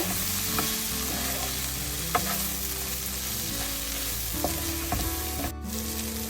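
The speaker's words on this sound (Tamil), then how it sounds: "சேர்த்துட்டு எல்லாத்தையும் நல்லா கலந்து கொஞ்ச நேரம் வதங்கட்டும்." Okra sliced for a spicy Tamil fry crackles and sizzles in a pan with spice powder while being stirred, a continuous close hiss broken by a few scrapes and knocks of the spoon.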